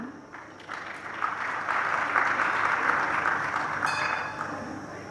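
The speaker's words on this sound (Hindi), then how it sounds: "ये ताली क्यों बजी रमगड़ा?" An audience at a Jain religious discourse breaks into applause, a steady, moderately loud patter of many hands that swells and then fades after a few seconds.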